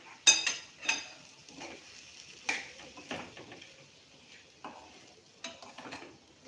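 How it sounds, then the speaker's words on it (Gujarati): Flattened rice (poha) stirred into potatoes in a pan, heard as a spoon scraping and tapping against the pan in irregular, close clinks over a quiet background. "હવે આપણે પૌવાને ઉમેરીશું. એને આપણે મિક્સ કરી લઈશું."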